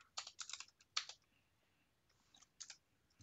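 Bursts of quick clicking keystrokes on a computer keyboard, quiet and close, come in two clusters separated by a short pause, with no voice over them.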